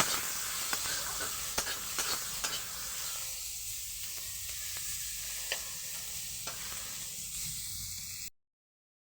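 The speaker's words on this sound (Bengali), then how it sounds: "পেঁয়াজটাকে একটু ভেজে নেব" Onions fry in hot oil in a wok, giving a steady close hiss and sizzle punctuated by scraping stirs, then cutting off abruptly to silence.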